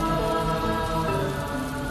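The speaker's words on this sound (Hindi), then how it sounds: "बहुत ज्यादा बारिश हो रही है।" Heavy rain pours down steadily in stormy weather, a dense, constant hiss of drops striking surfaces close by with no pauses.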